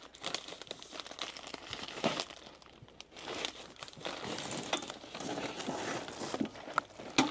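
Hands rummage through thin plastic poly bags holding pantyhose, giving close, continuous crinkling and rustling in uneven bursts.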